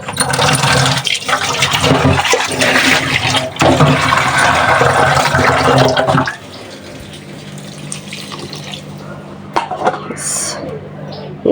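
Water is poured into a pan of curry cooking with spices and a little mustard oil, a loud rushing splash for about six seconds that then drops to a quieter simmer, with a voice heard over it.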